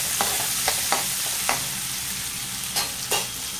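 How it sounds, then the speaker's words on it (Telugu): Sliced onion and green chillies sizzle steadily in a frying pan, with several sharp scrapes of a spoon stirring them at irregular intervals; close and fairly loud, with no voices. "ఒక ఉల్లిపాయ రెండు పచ్చిమిర్చి కూడా వేసుకొని ఫ్రై చేసుకుందాము"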